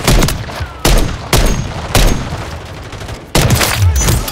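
Gunfire in a Call of Duty MW3 multiplayer hardpoint match on the Stash House map, with loud close bursts of shots in uneven clusters and sharp booming reports echoing between them.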